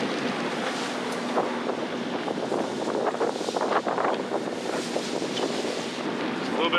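Strong, steady gusting wind roars across the microphone aboard a sailboat in an Atlantic storm, with whitecaps and gusts around 17 to 23 knots, while water rushes and splashes continuously against the hull.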